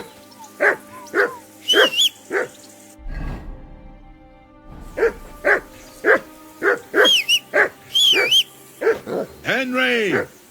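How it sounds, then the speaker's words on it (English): In the video game Kingdom Come: Deliverance II, a dog barks repeatedly in short sharp bursts, loud and close, with a few higher yips and whines between barks and a brief lull midway. "Whistle at that mutt of yours to stop barking."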